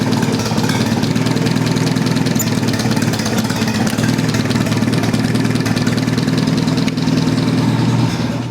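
A loud old engine idles at about 500 RPM at working temperature, a steady rumbling chug with an even rhythmic pulse throughout.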